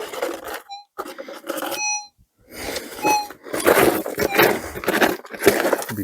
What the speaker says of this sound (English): So let's get the detector in here.